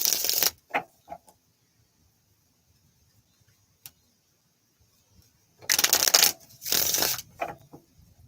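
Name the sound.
shuffling a deck of cards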